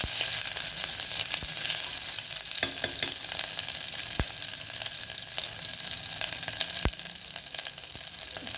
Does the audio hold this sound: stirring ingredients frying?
yes